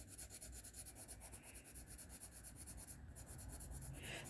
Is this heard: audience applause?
no